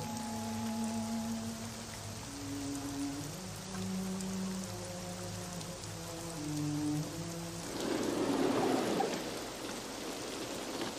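Steady rain pours down on surfaces, a dense, even hiss that swells louder near the end, heard under soft sustained music with no talking.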